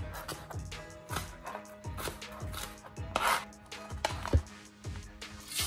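A knife chops vegetables on a board in steady, rhythmic strikes, about two per second, close and fairly quiet, with a faint clink of dishes now and then.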